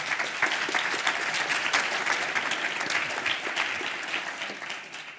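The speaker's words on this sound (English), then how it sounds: "Let's give them all a round of applause, please." A room full of people at a panel discussion on teaching gives a sustained, even round of applause to welcome the panelists, dense clapping lasting over five seconds and tapering slightly at the end.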